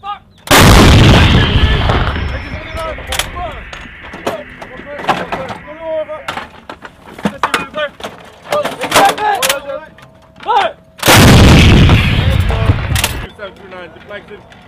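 US Army M119A3 and M777 howitzers firing at a training range, two huge close blasts several seconds apart with shouted commands and crew chatter in between.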